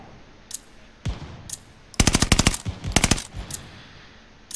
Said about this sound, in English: These shotguns